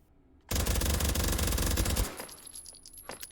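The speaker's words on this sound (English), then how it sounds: "Let's try our Mac 10 suppressor now." Suppressed Mac 10 submachine gun in the H3VR virtual reality game firing one fast, continuous automatic burst of about a second and a half, loud and close, then a quieter tail of clinking and mechanical handling with no talk.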